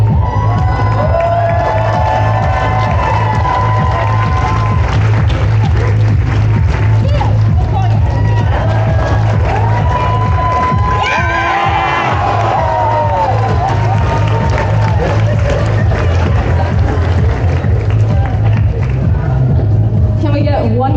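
A large crowd at a Comic Con cosplay competition in Honolulu cheers, whoops and applauds loudly and continuously, with shouts rising and falling, while an amplified voice talks over the noise.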